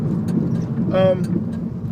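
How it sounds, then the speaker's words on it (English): A car is being driven, giving a low, steady engine and road hum from inside the cabin, with a brief voice sound in the middle. "it's a car that's fun to drive"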